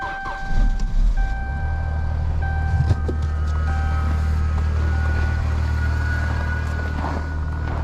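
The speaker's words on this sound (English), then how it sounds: "I heard an odd whining noise that I initially thought was an alarm. Turns out it was just Chet starting my vehicle." A vehicle engine starts and settles into a loud steady idle, with a high, thin whining tone sounding in short repeated bursts over the low rumble, heard up close outdoors at a frozen lake in winter.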